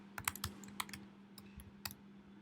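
Code is typed on a computer keyboard in irregular bursts of crisp, faint key clicks up close, with a low steady hum underneath and no voices.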